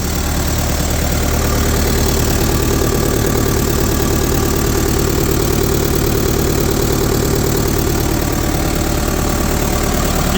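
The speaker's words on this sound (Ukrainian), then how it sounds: "І двигун справно працює." A Mercedes-Benz 609 van's engine idles steadily and loudly up close, a constant low rumble with a faint rhythmic knock running the whole time, no voices.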